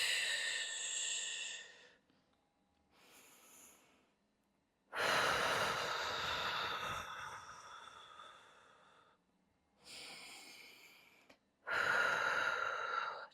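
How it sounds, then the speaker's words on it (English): Slow, deep breaths during a third-trimester movement exercise, each long inhale and exhale close and distinct, separated by short quiet gaps. "Take a few deep breaths."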